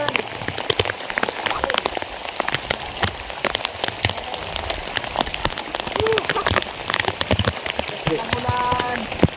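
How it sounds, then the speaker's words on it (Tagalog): Rain falls outdoors at a fishing spot, a steady dense patter of drops striking surfaces at close range, with sharp taps and some faint background voices. "Ang ulan."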